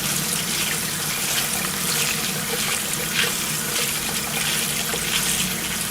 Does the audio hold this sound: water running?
yes